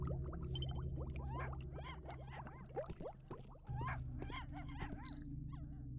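A dog in the video game Tales of the Neon Sea barks and yelps in quick, scattered bursts over a steady low engine-like hum, with squeaky chirping calls mixed in; fairly faint overall.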